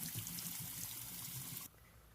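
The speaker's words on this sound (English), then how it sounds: "give it a rinse under cold water" Cold tap water runs steadily while a stained shirt is rinsed under it, a close, even rushing stream that cuts off abruptly near the end, with no talk.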